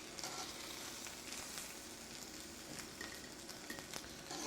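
Octopus sizzles in a hot pan, a soft steady hiss of frying with scattered small pops and crackles, fairly quiet and close, no voices.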